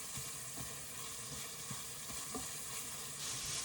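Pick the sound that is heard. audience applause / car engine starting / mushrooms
mushrooms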